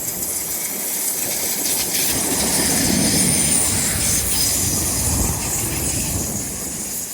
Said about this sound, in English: Hello, first train of the day.